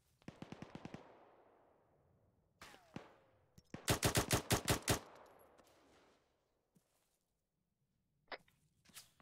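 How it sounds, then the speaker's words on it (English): Bursts of automatic gunfire in the Arma 3 military shooter game, a fast rattling string of shots, a louder second burst echoing afterward, then a few isolated sharp cracks spaced apart in the distance. "I think we're taking sniper fire."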